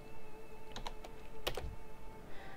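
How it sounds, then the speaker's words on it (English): Typing a chat command in World of Warcraft on a computer keyboard: a few scattered, crisp key clicks over a faint electronic hum, close and quiet, without speech. "what you need to do is type slash tar, T-A-R, and then Pepe"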